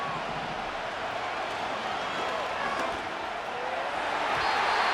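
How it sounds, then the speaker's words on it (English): Stadium crowd noise from the American football video game Madden NFL 25, a steady, dense roar of a large crowd building on third down, continuous and fairly loud throughout with no clear breaks. "This crowd into it now as we get to third down."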